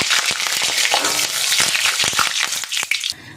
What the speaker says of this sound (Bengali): দেখুন ফোড়নটা ভাজা হয়ে গেছে